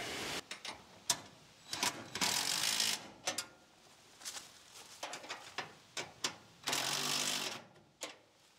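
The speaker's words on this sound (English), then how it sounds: "I think we can go ahead and tighten it down" Bolts being tightened on a heat pump mounting bracket in a workshop, heard as sharp close ratcheting clicks in short bursts, with a couple of longer buzzing tool runs in between.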